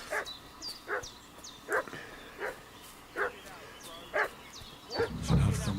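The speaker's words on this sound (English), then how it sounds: "What's that dog making such a fuss about?" Dog in the video game Kingdom Come: Deliverance II barks and fusses in a regular series of about nine mid-distance barks and yips, with a voice speaking near the end.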